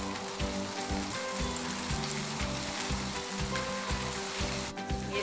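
Finely chopped garlic fries in a little oil in a pan, turning light golden: a steady, dense sizzle running throughout, with a faint repeating low rhythmic knock beneath it and no voices.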